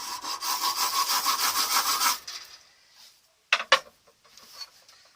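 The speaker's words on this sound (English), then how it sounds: "Just scratch it and put some big gouges in this fire steel end." A file or rasp scratches deep gouges into the end of a ferro rod (fire steel) being made into a handle. It is a fast, rhythmic run of close, loud rasping strokes, followed by a few quieter scrapes and short clicks.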